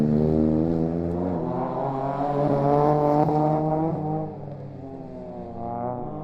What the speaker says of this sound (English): had been treated to a new exhaust since the McRae, the car sounding really crisp